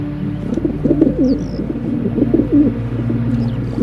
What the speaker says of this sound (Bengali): কিছু পায়রারা মাটিতে এসে জোয়ারগুলো খেতে শুরু করে